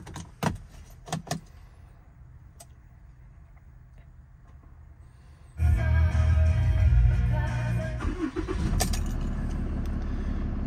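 A 2018 Ram 5500 with a Cummins diesel engine cold-starts after some clicks and door or key sounds, then the engine catches and settles into a loud, rumbling idle heard up close.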